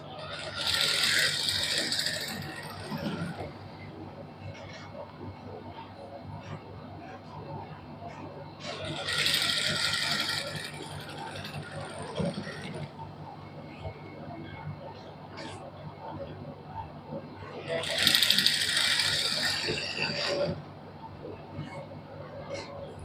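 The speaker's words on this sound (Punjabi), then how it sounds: "ਧਿਆਨ ਨਾਲ ਸਲਾਈ ਲਾਉਣੀ ਹੈ ਅਕਰੀ ਦੇ ਉੱਪਰ ਹੋਵੇ ਆਪਣੀ ਲੈਸ ਇੱਧਰ ਉੱਧਰ ਨਾ ਹੋਵੇ" A domestic sewing machine stitches multicoloured lace onto a cotton suit in three loud bursts of rapid mechanical whirring, separated by quieter gaps with a faint hum and small clicks.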